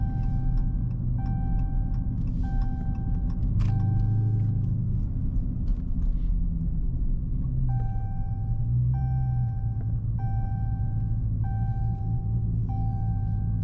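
A cammed Dodge Charger Hellcat rumbles deep and loud from inside the cabin while driving, its lumpy low growl rising and falling, with a repeating chime tone sounding over it.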